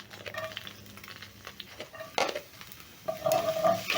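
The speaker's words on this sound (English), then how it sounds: "in the same pan, I'm going to add in some garlic and 1 onion." Garlic and an onion go into a hot pan already used for soy sauce chicken, with a soft sizzle, then clattering stirs and a louder burst of frying near the end, no voices.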